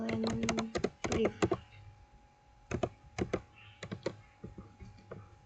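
Someone types a command on a computer keyboard, with rapid clustered key clicks in bursts and brief pauses, close and fairly quiet.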